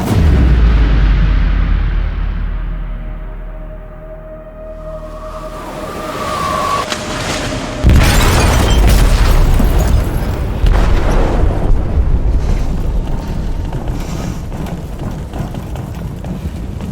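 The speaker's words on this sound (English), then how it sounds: "They detonated an explosive in the hold." A powerful explosion tears through a ship's hold in the video game Detroit, opening with a deep rumbling boom that swells, then a second sharp blast near the middle followed by sustained roaring, crackling debris and low rumble.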